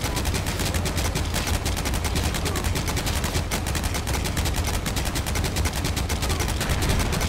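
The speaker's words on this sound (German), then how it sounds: "Komm, schieß nochmal, komm, trau dich." Rapid, dense gunfire from the video game Heroes & Generals rattles on without pause, loud and continuous with automatic-weapon bursts layered over each other, and no talk over it.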